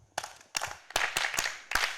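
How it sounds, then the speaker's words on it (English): Scattered bursts of audience clapping at a celebratory event come in several short, uneven waves, moderately near and not very loud, with no talk over them. "Clap for me."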